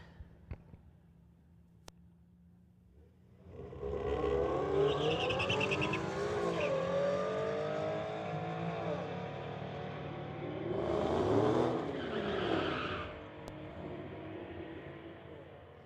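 Volkswagen and Infiniti drag race cars launch at a strip after a few quiet seconds, their engines roaring up through rising, sweeping gear pulls and then easing into a fading drone.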